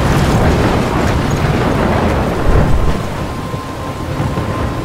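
Thunderstorm with heavy rain in the video game Life Is Strange, a loud, steady wash of rainfall with deep rolling thunder rumbling throughout and swelling briefly near the middle.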